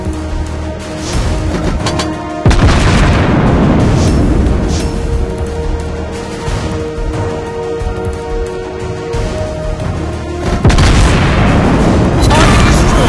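Heavy booming explosions from the naval game World of Warships Blitz as enemy shore artillery is destroyed, loud, sustained rumbling blasts with sharp fresh detonations around two and eleven seconds over a continuous battle roar.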